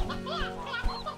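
Sea hens clucking in the video game Slime Rancher 2, a short run of bright, chattering bird-like clucks at moderate volume.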